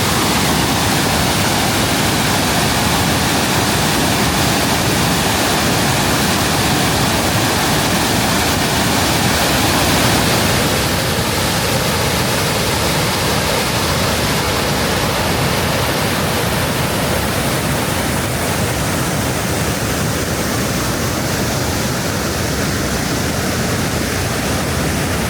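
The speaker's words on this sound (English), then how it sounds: "another little waterfall before the big one." A smaller waterfall near Multnomah Falls in Oregon, on a foggy day, rushes as a loud, steady broadband roar that holds unbroken throughout with no voices.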